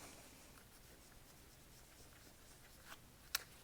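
An Expo dry-erase marker squeaks and scratches faintly against a whiteboard, ending in one sharper tap, close but soft.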